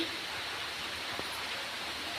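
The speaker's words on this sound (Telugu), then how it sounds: "ఈరోజైతే భారీ వర్షం పడుతుంది" Heavy rain falls in a steady, even hiss with no breaks, filling the whole stretch without any talk.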